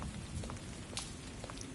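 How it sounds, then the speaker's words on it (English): Steady rain falling in a video game with a cabin in the woods, a faint, even patter with scattered drips throughout, no talk. "it is raining."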